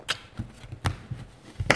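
A deck of playing cards is shuffled up close, with quick crisp riffles and several separate snappy bursts of flicking cards spaced irregularly across a quiet background.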